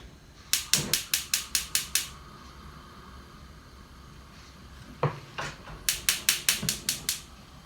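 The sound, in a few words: gas range burner igniter clicking as it is fired up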